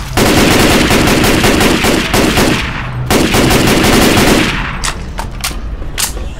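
Rapid automatic rifle fire in the video game Left 4 Dead 2: loud, dense bursts of gunfire that continue almost without a break, then ease off into a few scattered single shots near the end.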